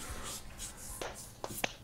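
A few soft, scattered hand claps, faint and uneven, against a quiet background with light rustling.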